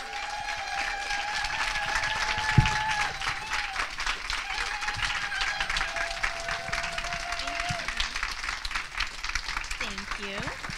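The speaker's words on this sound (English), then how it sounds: "let's give a big round of applause to Rebecca Hall Gruyter" Sustained applause from an opening-ceremony crowd rising in a standing ovation, steady and full throughout, with a held tone and faint voices mixed underneath.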